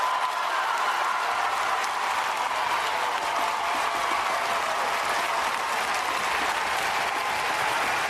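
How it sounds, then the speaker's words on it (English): A large crowd cheering and applauding at a political debate, loud continuous clapping and roar that holds at a constant level throughout, with no speech on top. "And the crowd's cheering him."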